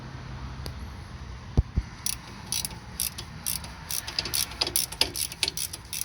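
An 18 millimeter ratchet wrench spins a bolt off a rear brake bracket on a Jeep Wrangler, giving rapid runs of light clicking in bursts through the second half, with a couple of sharper knocks early on.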